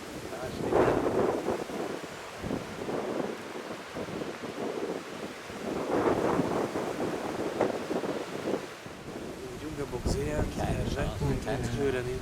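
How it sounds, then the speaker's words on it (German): Strong wind gusts across an open grassy meadow beside woodland during a roebuck hunt, a steady rushing roar buffeting the microphone throughout, with people talking quietly underneath. "Das ist ein großer Wind."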